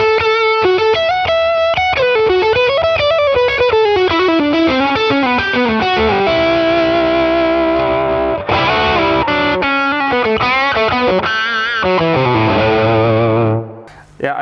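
Telecaster electric guitar with added gain, trimmed highs and boosted mids plays a continuous overdriven melodic line with bends and sustained notes, loud and close, without talk, fading out at the end.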